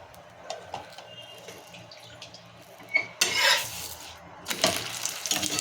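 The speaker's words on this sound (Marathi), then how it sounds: "इथे आपल्याला दोन्ही बाजूने छान खरपूस भाजून घ्यायचा आहे इथे आपण तूप लावून घेऊयात" Corn paratha cooking in ghee on a hot pan crackles and sizzles softly, with spatula scrapes and clinks against the pan and a louder burst of frying near the end, no voices.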